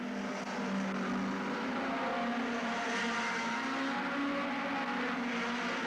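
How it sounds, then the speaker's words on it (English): Hot rod race cars circle an oval track at Northampton in 1985, a steady droning roar of engines heard from a distance, with no clear passes standing out. "Leon Smith trying to come through on the inside there again"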